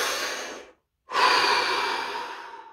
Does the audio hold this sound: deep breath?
yes